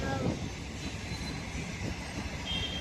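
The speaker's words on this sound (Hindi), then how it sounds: "लोकल ट्रेन है ना" A local train rolls past nearby with steady rumbling wheels and rail clatter, heard at moderate volume under voices.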